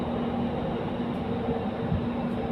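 Steady, continuous rumble of a Doha Metro train in Qatar heard from inside a riding carriage, with a constant drone, a faint whine and no talk.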